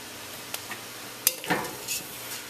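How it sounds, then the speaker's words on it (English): Brown parboiled rice gets a quick stir in a pot, with one sharp scrape and a soft swish against a low background hiss, brief and quiet. "Give it a quick stir."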